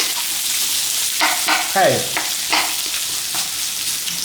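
Cucumbers pan-searing in a hot pan for a Chinese home dinner, giving a steady close sizzle with a few scraping stirs. A voice speaks one brief word partway through.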